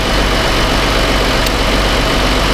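A car engine idles steadily during a fuel injector test, a loud constant low rumble and drone with no changes in pace throughout.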